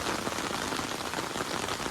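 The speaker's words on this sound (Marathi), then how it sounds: "पाऊस रात्रभर कमी होतो आणि आता परत सुरू झालो सकाळपासून" Steady, dense monsoon rainfall patters across surfaces, a continuous even hiss with no pauses and no voices, during heavy rain with river flooding.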